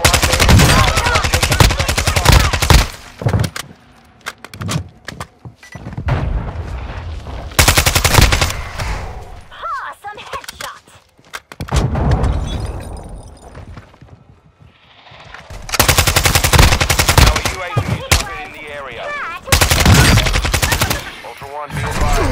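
Video game gunfire in heavy bursts of rapid automatic shooting, loud and close, broken by quieter gaps, with game voices heard in between.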